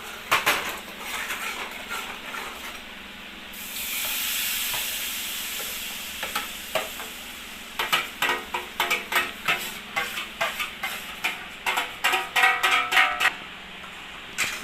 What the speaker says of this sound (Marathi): सगळा मसाला याच्यामध्ये टाकलेला आहे आता आपण याला छान असं फ्राय करून घेऊया